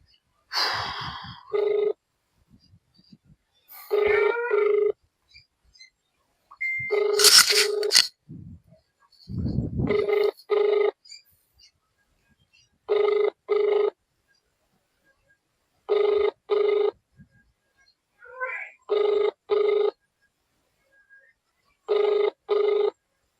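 A telephone rings back in repeated paired bursts at a steady rhythm, loud and close, with a few clicks and short breaths between the early rings.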